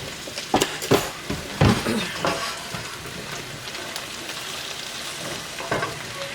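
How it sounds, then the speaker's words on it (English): Spinach sizzles and crackles in a hot skillet, with a few sharp clinks and stirring bursts early on, then settling into a steady fry. "So you can already hear the sizzle."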